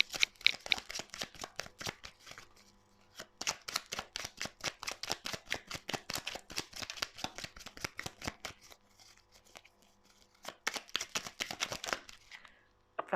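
Lenormand oracle cards are shuffled in a long run of rapid, crisp riffling flicks close up, pausing briefly midway before a second quick burst of shuffling.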